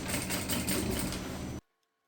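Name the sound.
sewing machine stitching a finishing seam on an eco bag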